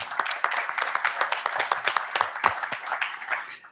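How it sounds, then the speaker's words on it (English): A smaller round of applause in a state House hearing room after a county GOP chairman is recognized, individual claps distinct and uneven, moderately loud and close, fading toward the end. "So please give them a round of applause."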